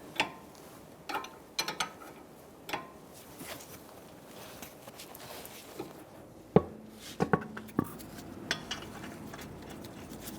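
Scattered clicks and metallic clacks from a socket ratchet tightening nuts during front inner tie rod work on a 2000-2007 Ford Taurus, close and fairly quiet with pauses between bursts.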